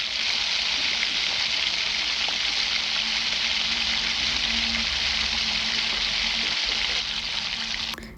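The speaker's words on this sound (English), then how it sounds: "Cooking tomatoes is going to take a little time because there is water content in tomato." Tomatoes fry in oil for a dal fry masala, a loud, continuous close sizzle with faint scraping from stirring, running steadily without talk until it tails off at the end.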